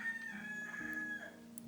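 A rooster crows behind a house, a sustained tonal call running through most of the short moment at moderate distance, with no talk over it.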